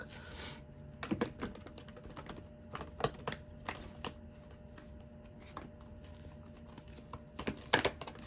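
Cards from a thick, oversized deck being shuffled, quiet riffling and scattered clicking snaps in irregular bursts, faint and close with no talking.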